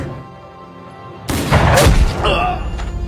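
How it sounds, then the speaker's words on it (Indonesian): Gunshots from a cowboy film, a sudden loud boom after a quiet start, followed by a burst of further shots and rumbling echoes close by, with no speech over it. "Dia malah main tembak aja"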